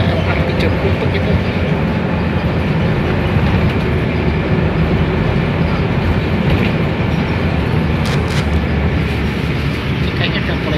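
A Jakarta-area LRT light rail train rumbles steadily past, its continuous roar filling the scene with a faint metallic rattle and clatter throughout.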